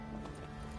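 Horse hooves clip-clop briefly in a PS4 video game, a quick run of soft rhythmic thuds under a dense musical and ambient background.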